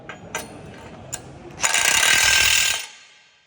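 A Makita 40V impact wrench spins with a few clicks, then hammers in a loud, continuous impacting burst of about a second before cutting off.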